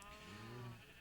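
A sheep bleats in Minecraft, one short wavering baa lasting about a second, close and clear with no talking.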